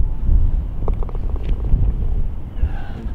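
Wind blows across a golf course at Trevose GC, a heavy continuous buffeting rumble hitting the microphone throughout, loud and steady with a few faint higher sounds mixed in.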